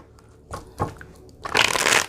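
Tarot cards being shuffled up close: a couple of short riffling bursts, then a longer, louder stretch of dense papery shuffling near the end.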